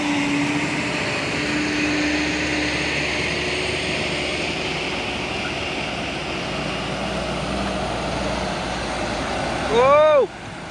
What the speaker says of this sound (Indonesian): Dan di belakang juga ada truk box Isuzu Giga.